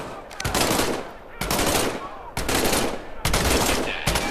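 Gunfire from a World War II weapon in the Medal of Honor Above & Beyond VR game comes in four loud bursts of rapid shots, each lasting about a second, with short breaks between them.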